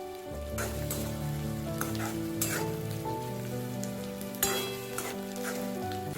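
Chopped onion fries in oil for a crispy chicken starter, a quiet, steady crackling sizzle with a few sharper pops, heard close up under faint background music and no talking.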